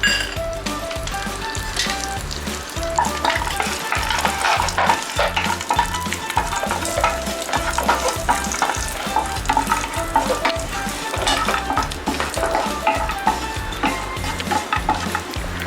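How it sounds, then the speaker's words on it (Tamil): Continuous oily sizzling and crackling of cashews and raisins frying in a pan, with occasional light clinks of a utensil against metal. "திராட்சை முந்திரி இதில் போட்டு லைட் ஃப்ரை பண்ணி எடுத்துடலாம்"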